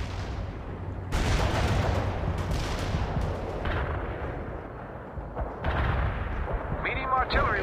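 Medium artillery fires in the war strategy game World in Conflict: heavy booming blasts and rumbling explosions come in waves, with a short electronic radio-style chirp near the end.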